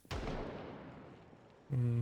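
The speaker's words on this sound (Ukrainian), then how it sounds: "постріл." A single sharp gunshot blast in the video game Project Zomboid, with a long decaying rumble, followed by a loud, steady tonal hum cutting in near the end.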